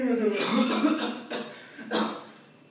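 A voice imitates actor Pawan Kalyan coughing, with a few rough, breathy coughs in quick succession between bits of speech.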